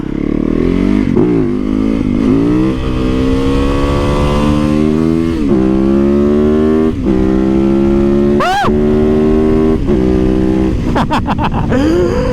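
A motorcycle being ridden, its engine loud and close, climbing through the gears with rising revs and brief dips at each shift, plus wind buffeting near the end.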